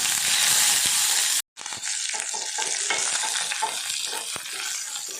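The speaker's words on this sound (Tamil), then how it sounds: "வெங்காயம் நல்லா வதங்கி வந்துருச்சு" Onions and curry leaves sizzle and crackle in hot oil, with a steady frying hiss broken by a brief gap and occasional stirring scrapes.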